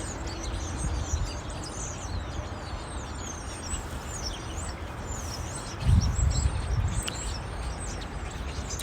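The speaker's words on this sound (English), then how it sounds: "And these birds are going crazy outside." Birds chirping busily outdoors, repeated high tweets scattered throughout over a background rustle and low rumble, fairly faint, with no talk.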